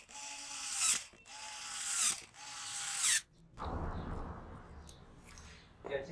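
Ratcheting tool clicking in rapid bursts while tightening a connection in a 63-amp house main electrical panel, three close loud bursts followed by softer handling and rustling noise.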